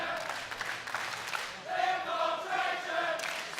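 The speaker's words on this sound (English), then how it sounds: "But they are definitely chanting Infiltration right now." A crowd at the Combo Breaker 2018 fighting game tournament chants Infiltration's name, a loud rhythmic roar of many voices that rises midway and holds steady.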